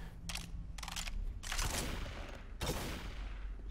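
Bursts of gunfire in Left 4 Dead 2 as players shoot toward a stuck gnome, several rapid volleys of shots with brief gaps between them, loud and close.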